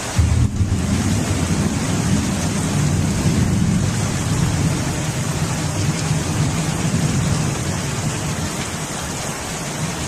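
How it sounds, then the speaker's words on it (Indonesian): Heavy rain pours steadily with deep rumbling thunder, a loud, continuous wash of noise with low booming underneath and no voices. "Nah, hujan."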